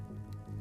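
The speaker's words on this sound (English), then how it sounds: "That damn downpour." Rain pours down in a downpour scene from an action roguelite video game, a steady, dense patter of drops with a low rumbling bed, brief and fairly quiet.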